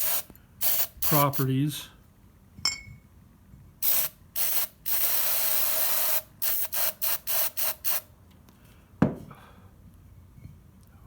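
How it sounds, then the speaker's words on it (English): Short bursts of WD-40 aerosol hiss onto stained glass pliers, several quick sprays and one longer blast, separated by clicks of the pliers and brief speech. "I've got WD-40 for its penetrating and lubricating"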